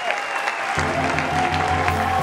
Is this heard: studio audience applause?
yes